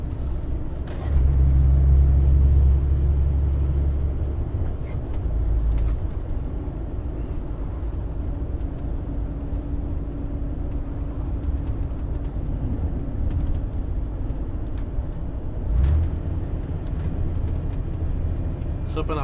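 Heavy truck engine drones steadily on the road from inside the cab, a low rumble that swells briefly near the start and again later, with someone talking over it.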